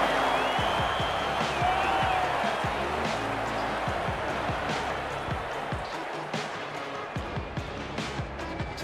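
A video game crowd roars after a try in a Melbourne Storm vs Wigan Warriors rugby league match, a steady wash of cheering with a commentator talking over it.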